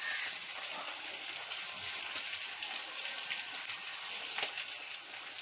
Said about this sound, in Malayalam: ഇനി നമുക്ക് കുറച്ച് കടുക് ഇട്ട് കൊടുക്കാം